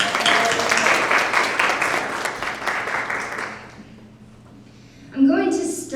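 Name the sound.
audience applause for a speaker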